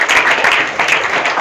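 A crowd at a karate event held by a charitable educational trust in Kurukshetra claps steadily, with a dense wash of applause that swells and dips slightly in loose pulses.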